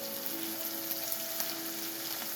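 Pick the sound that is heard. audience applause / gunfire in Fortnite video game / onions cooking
onions cooking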